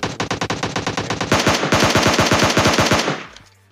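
Rapid bursts of automatic gunfire from PUBG Mobile Lite, loud and close, firing in quick repeated volleys for over three seconds before cutting off.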